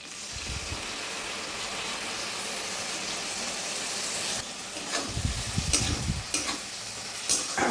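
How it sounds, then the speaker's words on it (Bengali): Poppy seed paste being stirred and fried with flat beans in a pan gives a steady loud sizzle, and scraping stirs come in near the end with no talk over it. "ভালো করে সব সিমের সাথে মিশিয়ে নেব।"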